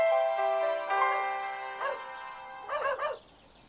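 A dog in the video game Dude, Stop lets out a few soft, tonal whimpers and short whines, spaced out and fairly close, ending in a quick pair of yips, with no talking.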